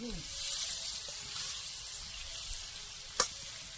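Prawns frying with cumin on a wood-fired stove make a steady, fairly faint hiss throughout, with one sharp scrape of a stirring utensil near the end and a brief hint of a voice at the start.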